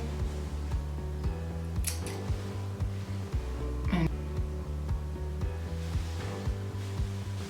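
Scissors trimming natural hair, with a couple of brief crisp snips standing out over a constant low mechanical hum that stays close and fairly loud throughout.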